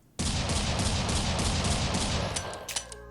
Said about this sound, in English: we have this Deagle when holding down the fire button